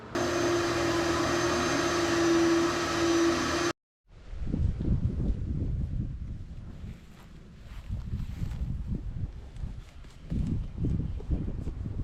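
A vacuum cleaner drones steadily for a few seconds while cleaning Mazda Miata car seats, then cuts off abruptly; rustling, scraping handling noises follow up close.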